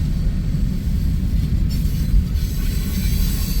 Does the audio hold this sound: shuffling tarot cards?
no